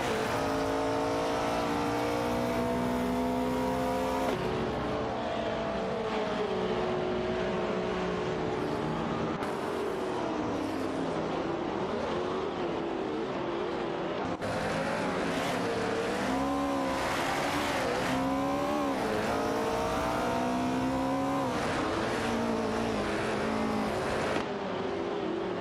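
Race car engines in a racing video game, a Porsche 909 Bergspider among them, whining and revving at high pitch through gear shifts, several cars layered close together and continuous throughout, no voices.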